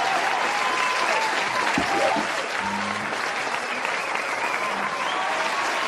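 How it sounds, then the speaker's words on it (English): Canned studio audience applause on a live art show, a dense steady roar of clapping that runs unbroken throughout, with brief faint tones and a voice underneath. "Can we get another round of applause"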